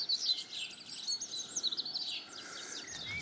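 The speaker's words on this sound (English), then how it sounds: "Listen to the birds." Birds sing at a campsite in early spring, several chirps and tweets overlapping in a steady, fairly faint chorus with no talking.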